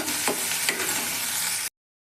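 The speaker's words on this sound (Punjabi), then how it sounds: "ਹੁਣ ਆਪਾਂ ਇਹਨਾਂ ਨੂੰ ਚੰਗੀ ਤਰ੍ਹਾਂ ਦੇ ਨਾਲ ਭੁੰਨ ਲਵਾਂਗੇ ਜੀ" Green chillies sizzle as they are fried and stirred in a tadka for dal, a steady hiss with a couple of scraping stirs before the sound cuts off abruptly.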